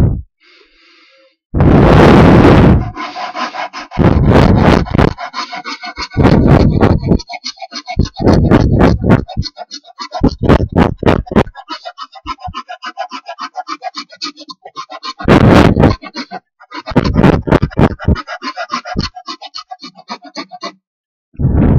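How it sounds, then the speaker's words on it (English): Sandpaper held on a wedge rubs along a small wooden toy car in bursts, several rasping strokes of uneven length broken by short pauses, close and fairly loud. "You put some sandpaper on it with a wedge here as you can see the wedge is there"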